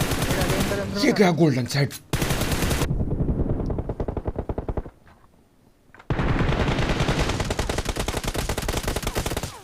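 Rapid bursts of automatic gunfire from a fight in the BGMI battle game, loud and dense, with a short lull in the middle before the heavy firing resumes. A voice speaks briefly over the shots.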